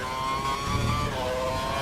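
Formula 1 car engine at full throttle in F1 2012 on the Melbourne circuit, a steady, loud, high-pitched whine droning without a break.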